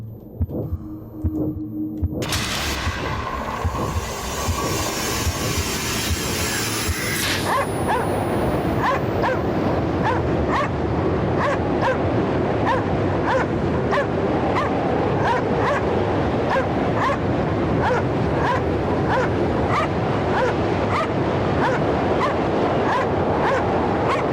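A dog in the Cryostasis video game barks repeatedly in a steady, evenly spaced rhythm after a brief burst of whimpering and noise, loud and persistent over a constant wash resembling surf.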